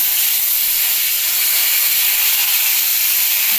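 Steady loud hiss of curry leaves sizzling in hot white oil, a continuous bright crackling spray with no breaks, close up.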